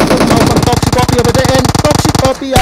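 Rapid automatic gunfire from a PUBG Mobile match crackles in a dense, steady burst under excited commentary, stopping abruptly near the end.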